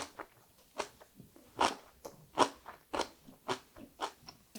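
Close crunching bites and chewing of cabbage kimchi with finely shredded sweet potato and ginger, about a dozen crisp crackly bursts in an uneven rhythm, with no talking.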